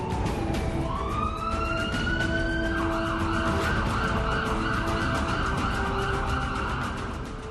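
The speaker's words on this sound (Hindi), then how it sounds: "चीन का जिंगशी शहर, जहां सायरन बजाती पुलिस की गाड़ियों के पीछे एक लाल रंग का ट्रक देखिए।" Wailing police sirens rise and sweep over a dense rumble of traffic in Jingxi, China, loud and continuous, with several vehicles sounding together.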